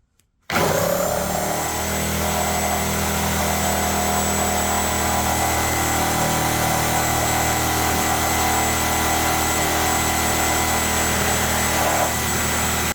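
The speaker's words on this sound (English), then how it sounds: "first up we're going to test the Lennox carbide blade" A reciprocating saw fitted with a Lennox carbide demolition blade cuts continuously, a loud, harsh buzzing rasp that starts abruptly and runs for about twelve seconds without a break.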